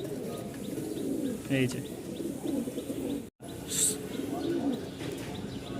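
Pigeons brought from Rajshahi coo and chirp softly through the clip, with a brief burst of a voice partway in.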